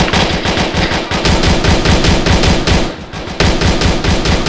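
Rapid automatic gunfire in the ARMA 3 military shooter, with steady bursts of loud shots hammering almost continuously, broken by one brief pause before the firing resumes.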